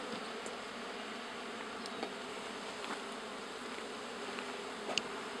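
Honey bees swarm around a hive outdoors, a steady dense buzzing drone with a few individual bees flying close past, moderately faint and unbroken, with no talk.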